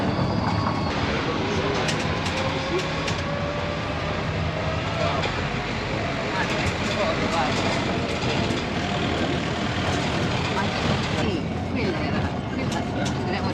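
Passenger train running through Budapest, a steady rumbling roll with carriage rattle and squeal heard from on board, continuous and fairly loud throughout with voices talking over it.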